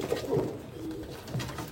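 An Abluk pigeon coos close by, low rolling throaty murmurs repeating over a couple of seconds, moderately quiet.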